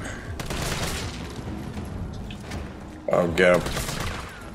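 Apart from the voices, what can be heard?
gunfire in the video game Resident Evil 3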